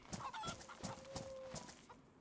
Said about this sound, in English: There is a chicken.